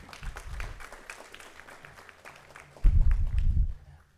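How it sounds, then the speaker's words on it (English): An audience at a closing keynote gives scattered, fairly faint clapping, then a louder burst near the end before fading out. "I know the clapping is going to get really tiring"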